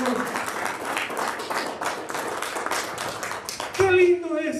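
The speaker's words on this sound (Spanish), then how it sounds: "Un aplauso fuerte para el Señor." Loud congregation applause fills a church service, dense clapping mixed with cheering voices and shouts, swelling louder near the end as someone speaks over it.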